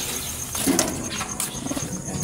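Racing pigeons in a loft give soft, throaty coos and brief squeals over a noisy, close background, with no talking.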